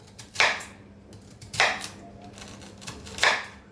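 A knife slicing dry onions into rings on a board, three crisp, evenly spaced cuts close up in a quiet kitchen.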